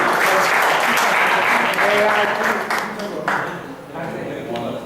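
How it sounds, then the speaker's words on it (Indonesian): A church or lecture audience claps loudly and continuously for nearly five seconds, a dense, close wash of applause that thins slightly toward the end. "Sekali lagi tepuk tangan buat KFC."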